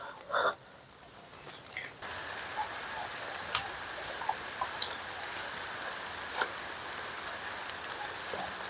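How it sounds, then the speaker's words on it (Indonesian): Light drizzle in a forest patters steadily and softly, with faint scattered drops and a thin insect-like whine running through, plus a brief thump near the start. "Wah, gerimis nih."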